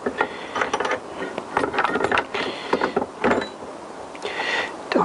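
A bench vise being tightened on a motorcycle steering stem clamped upside down, giving a series of close metallic ratcheting and grinding clicks in uneven bursts, no talking.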